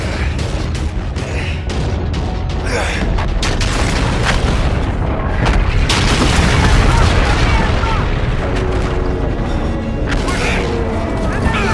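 Naval battle in Call of Duty: Advanced Warfare, with a dense, continuous barrage of ship gunfire, booming missile explosions and rumbling mechanical noise filling the whole span, loud and chaotic without letup.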